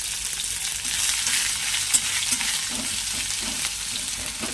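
Chopped onion sizzles steadily in hot oil in a pan while being stirred, with soft scraping clicks over a constant close, even frying hiss; no talk.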